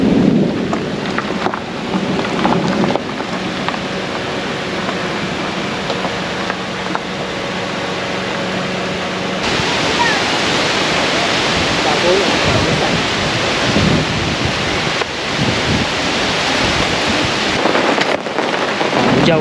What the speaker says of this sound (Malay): Hujan datang, guys.